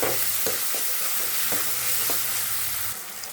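Steady loud sizzling of squid frying in a pan for a spiced thokku, with a spoon scraping and stirring in short repeated strokes throughout.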